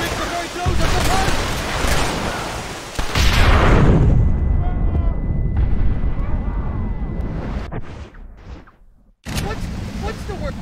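Heavy gunner fire and booming blasts ring out from a ridge in the Western video game Red Dead Redemption, a loud continuous barrage with a short sharp break near the end, voices talking over the chaos.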